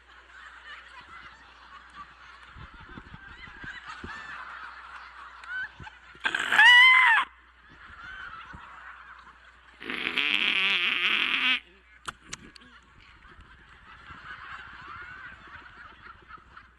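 A man imitates a cockatoo call in a stand-up comedy set, letting out two loud, harsh squawking bursts with a murmur of talk or crowd noise before, between and after.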